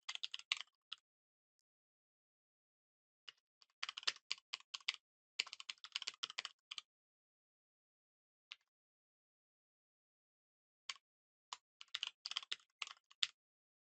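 Computer keyboard keys clatter in quick close bursts of typing while code is written, separated by silent pauses, with a few isolated single taps between the runs.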